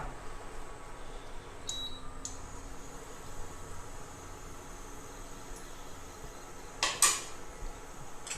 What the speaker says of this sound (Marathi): आनी आतां ताचेर पॅन दवरता।